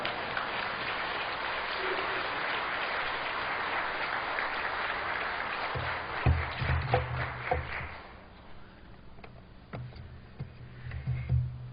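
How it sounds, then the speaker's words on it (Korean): A church congregation applauds to welcome the pastor at a worship service, a dense steady clapping that fades out around eight seconds, followed by a few scattered footsteps and taps. "큰 박수로 맞이하겠습니다"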